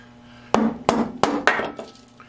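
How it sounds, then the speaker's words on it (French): Wood chisel struck with a hammer, four sharp close blows in quick uneven succession, then a fainter scrape, over a low background hum. "Ciseaux à bois et marteau."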